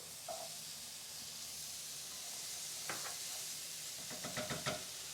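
Diced pepper hits a hot pan with a soft, steady sizzle, followed by a few brief sharp crackles and stirring scrapes near the end; quiet overall with no voices.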